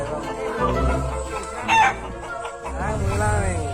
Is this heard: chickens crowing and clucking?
yes